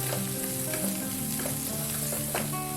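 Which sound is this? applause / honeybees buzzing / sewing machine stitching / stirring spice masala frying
stirring spice masala frying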